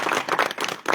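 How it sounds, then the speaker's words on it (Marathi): A crowd applauds guests at a public speech gathering with dense, steady clapping that fills the whole short moment at close range. "एकदा यांच्यासाठी टाळ्या वाजवा."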